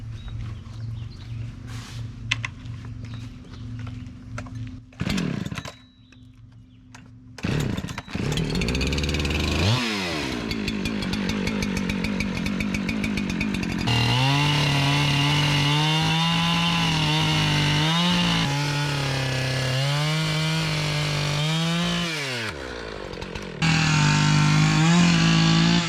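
A chainsaw is heard nearby: a few short sputters and pulls at first, then the engine catches and runs loudly, rising and falling between idle and hard revving for most of the stretch.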